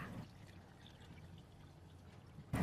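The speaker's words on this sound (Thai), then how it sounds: "เราจะนำถั่วเขียวรอบเปลือกมาล้างทำความสะอาดสักประมาณ 4-5 รอบนะคะ" Water pours in a steady, soft stream over green mung beans in their husks being rinsed, ending with a short louder splash.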